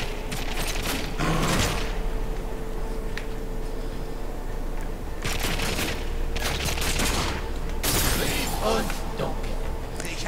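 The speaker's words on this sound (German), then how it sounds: "Er schießt." Enemy gunfire in The Darkness II comes as bursts of loud shots and clattering mechanical noise that recur in clusters over a continuous drone of game ambience.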